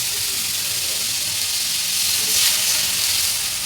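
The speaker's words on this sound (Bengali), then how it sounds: "এখন মশলাটা কষিয়ে নেব ভালো করে" Spice masala sautéing for a vegetarian bottle gourd leaf sabji, a steady close sizzle and hiss from the pan that swells slightly midway, with no voices over it.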